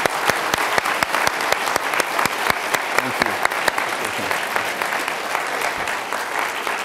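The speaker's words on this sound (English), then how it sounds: "So now is the time for the round of applause." An audience gives a round of applause after a scientific talk on the race for a male birth control pill, a dense sustained clapping with sharp individual claps standing out, and a brief spoken thanks partway through.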